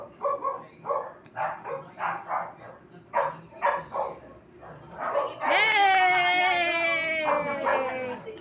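Pet dogs bark and yip in short repeated bursts during a birthday celebration, then break into a long drawn-out howling whine, with people singing and cheering around them.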